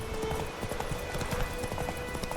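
Horse hooves clip-clop steadily over rough, uneven ground in The Witcher 3 video game, a continuous close trotting rhythm of dull thuds with no voices.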